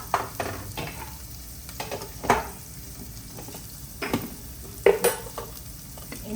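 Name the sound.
masala being sautéed and stirred in a pan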